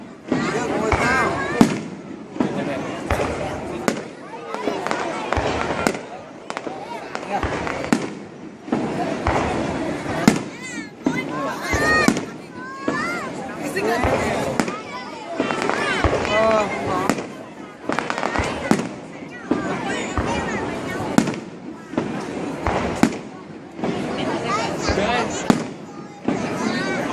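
New Year fireworks over Văn Quán, a long run of loud booming explosions and crackling bursts with rhythmic gaps between them, people talking in the crowd underneath.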